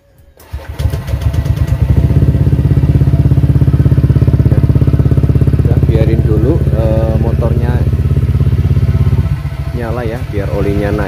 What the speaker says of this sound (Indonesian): Ini tinggal tak coba buat hidupin motor.